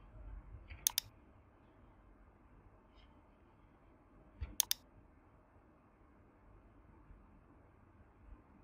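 Two quick bursts of sharp computer mouse clicks, a double click near the start and another pair about four seconds later, close and crisp over a quiet room hiss.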